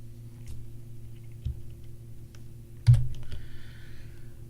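Computer keyboard typed in a Linux terminal, sparse individual key clicks spaced out over a few seconds, then a louder cluster of quick keystrokes near the end, close and dry with no talk.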